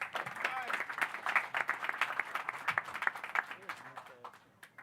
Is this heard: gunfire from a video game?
no